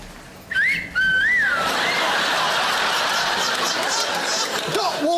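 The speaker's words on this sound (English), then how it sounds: "Police whistles!" A wavering whistle blows a few short rising and falling notes, then a loud burst of hooting and laughter-like noise fills the rest.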